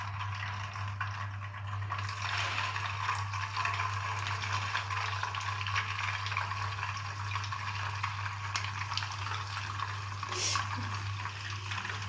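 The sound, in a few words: frying chicken reshmi kebabs in a pan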